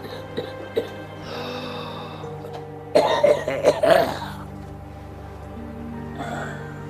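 A person on a street in Tunis at night coughs in a short cluster of harsh, throaty coughs mid-clip, close by, over a steady low hum of background noise.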